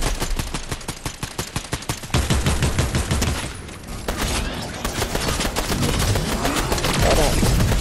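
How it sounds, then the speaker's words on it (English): Dense, loud gunfire from a Fortnite duo match crackles continuously, starting as rapid individual shots and merging into a sustained roar of automatic fire and blasts, close and overpowering throughout. "He's shooting at me."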